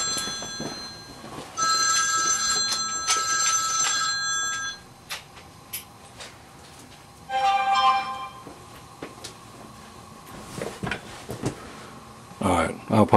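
A telephone rings indoors in several electronic bursts, loud and close, with someone talking between and under the rings amid handling noises.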